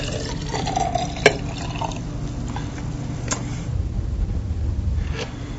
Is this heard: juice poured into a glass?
yes